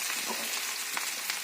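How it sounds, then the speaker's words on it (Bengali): Onions nearly browned in a pan give off a soft, even sizzle, quiet and continuous with faint crackles. "এই যে আমার পেঁয়াজটা প্রায় ভাজা ভাজা হয়ে যাচ্ছে"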